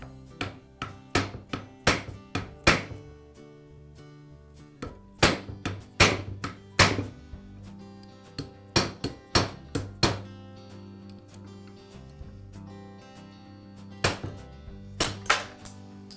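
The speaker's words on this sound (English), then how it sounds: "now I can just tap on the armature shaft until the armature comes free of the bearing" Metal socket tapping on the armature shaft of a Skil circular saw to drive it out of its bearing, a steady run of sharp, close knocks in quick bursts with short pauses and no voices.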